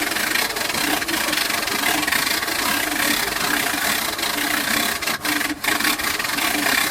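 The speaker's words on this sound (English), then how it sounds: "The wind-up part does actually amazingly still wind up." The hand crank of a Freeplay wind-up radio recovered from a canal is turned steadily, giving a continuous close grinding, ratcheting whir with slight rhythmic wobble throughout.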